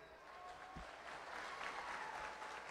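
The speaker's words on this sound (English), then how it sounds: "Once again, a big round of applause for them." A middle school culmination crowd applauds after a mariachi performance. The continuous clapping sounds faint and distant, holding steady throughout.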